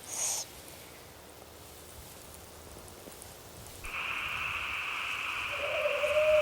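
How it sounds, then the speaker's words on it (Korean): An owl near the nest of a collared scops owl gives a steady hoot-like tone toward the end, over faint background noise and a sustained higher band, with no talk. "큰 소쩍새의 둥지 근처 올빼미가 나타났다."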